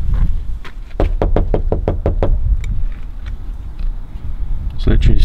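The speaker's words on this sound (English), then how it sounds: "Let's go knock on the door, shall we?" Knuckles rap on the front door of a house in a quick burst of about ten sharp, close knocks, with steady outdoor rumble behind and a couple more taps at the end.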